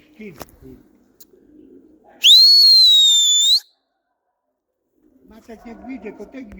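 A single sustained whistle blast, loud and clear, lasting about a second and a half, with quiet background and faint voices before and after.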